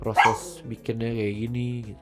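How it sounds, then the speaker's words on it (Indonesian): A pet dog at home barks sharply once or twice near the start, then a person talks over the quieter background. "Sorry nih ada anjing gua gonggong."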